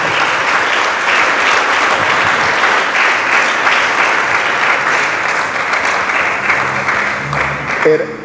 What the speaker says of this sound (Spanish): Entonces, démosle palmas al Señor, por favor.